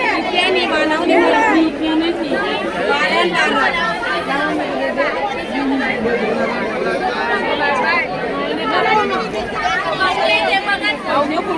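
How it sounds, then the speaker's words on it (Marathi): A busy wholesale fish market in Malad, Mumbai, with dense, loud crowd chatter from many voices overlapping continuously and close by, without any pause. "भरपूर गर्दी आहे आज."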